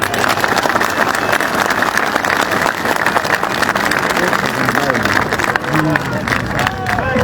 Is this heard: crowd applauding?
yes